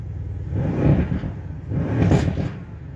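Mercedes C63S AMG engine in individual drive mode, a deep rumbling rev that swells twice, close and fairly loud, with no talk over it.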